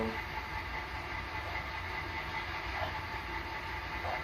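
A model ALCO steam rotary snowplow runs along dirty model railway track, giving a continuous low whir and hiss that stays steady and fairly quiet throughout, with no voices.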